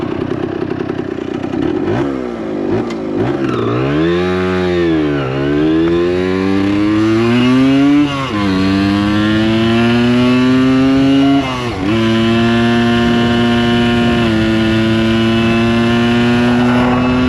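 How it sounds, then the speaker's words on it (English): A vintage 1974 Kawasaki G5 100 two-stroke enduro motorcycle idles and revs close by, its buzzing engine note rising and falling through several throttle blips before settling into a steady, loud run. "just to get the sound of the little 2-stroke 100"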